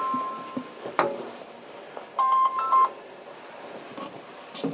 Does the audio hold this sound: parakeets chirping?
no